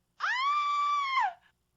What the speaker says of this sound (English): Then I heard a scream.